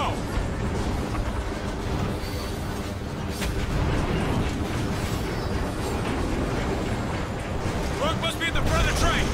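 A moving train in the Call of Duty Ghosts video game rumbles heavily and continuously throughout, a dense, steady roar with voices partly mixed into the din.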